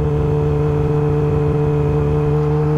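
A motorcycle engine runs at a steady, loud, close drone with a constant low hum and no change in pitch, heard alone.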